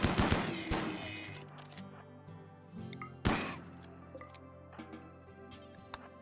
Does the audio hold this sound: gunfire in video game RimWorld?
yes